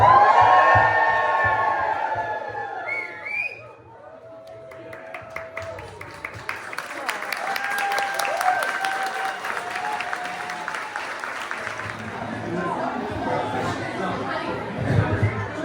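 Wedding guests break into cheering and applause after a toast at a wedding reception, starting with loud clapping and whoops, then a long stretch of crowd chatter with scattered cheers and a swell of clapping near the end.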